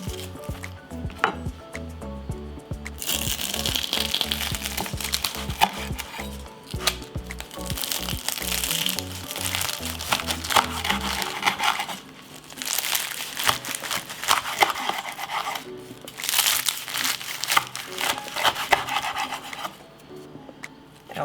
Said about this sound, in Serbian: pita se prohladila i sad ćemo je iseći